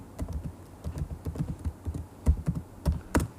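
Fingers type a Google search on a computer keyboard, a quick, irregular run of light plastic key taps, close and fairly quiet, with no talking.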